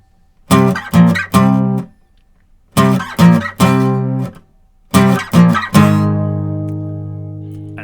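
Electric guitar power chords play a riff in three loud, clean phrases of short stabbed chords, separated by brief pauses, with the final chord left ringing and slowly decaying.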